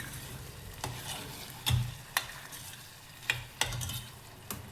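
Chopped onions fry in oil, sizzling steadily while a spoon stirs them. Periodic sharp scrapes and clicks from the pan punctuate the frying, heard close up without speech.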